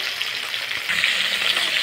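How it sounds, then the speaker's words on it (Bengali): Fish sizzles steadily in a hot pan, a dense broadband crackle that grows slightly louder partway through, with no voices. "মাছের একটা পিঠ ভাজা হয়ে গেছে"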